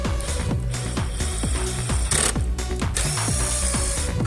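A screw is driven in to lock the cylinder of a wooden exterior entrance door. A steady run of close, even ratcheting clicks goes on from start to finish, with no talk over it.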